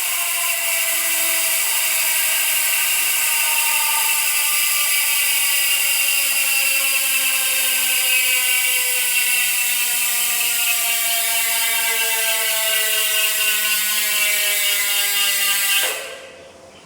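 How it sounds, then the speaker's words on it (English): Freehub ratchet on a Yoeleo G21 bicycle wheel clicks in a fast, steady buzz while the wheel spins freely, loud and alone with no talk, then cuts off abruptly near the end. "let's check out the Freehub sound check"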